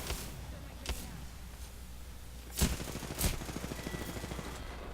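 Gunfire in Apex Legends sounds as two distant early shots, then two louder cracks closer together, followed by a rapid patter of fire. A voice can be heard faintly beneath.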